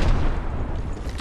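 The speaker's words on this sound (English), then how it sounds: "Some rockets shoot at me!" Loud, dense rumbling blasts of rocket explosions in the Apex Legends battle royale, a continuous booming wash with no clear gaps between impacts.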